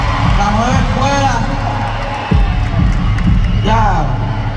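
Reggaeton concert crowd cheering and shouting loudly with whoops, while a voice talks over the noise and music thumps beneath.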